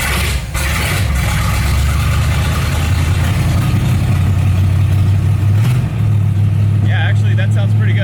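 A Chevrolet El Camino engine idles steadily just after starting, a loud, close, even rumble that runs throughout with a slight rise near the end, while a person talks over it.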